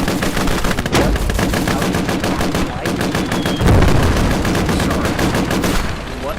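Sustained automatic gunfire in the war video game Call to Arms, a loud rapid rattle of shots with a heavier burst midway and no break.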